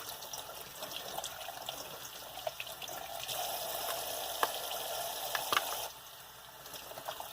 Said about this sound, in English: make sure you get them all good and rinsed